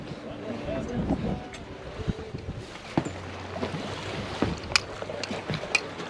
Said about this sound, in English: but we're finally sailing